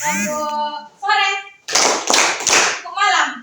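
Children play a classroom clapping game, short bursts of rhythmic hand claps alternating with kids' chanting voices, the claps grouped in quick clusters of three or four, close and fairly loud.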